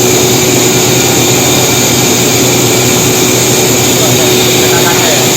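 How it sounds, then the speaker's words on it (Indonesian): A plastic extruder machine, heating plastic to about 180 degrees for moulding trapezoid gully-trap parts, runs with a loud, steady, unbroken mechanical roar and hiss. "Jadi mesin extruder adalah untuk menghasilkan bahan yang sesuai dengan cetakan kita."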